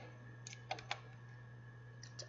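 A computer mouse clicks in a quiet room with a steady electrical hum, a few short clicks including a quick double click, then a couple more clicks near the end.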